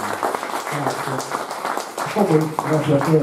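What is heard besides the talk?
applause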